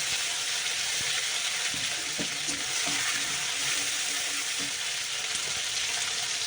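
Ginger and green chili paste sizzles in a hot pan, a loud continuous frying hiss with scattered scraping stir clicks, close up and without voices.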